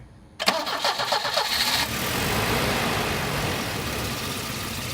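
A Volvo 740 Turbo's engine cranks briefly and catches near the start, then settles into a steady, close, moderately loud idle that holds through the rest of the clip.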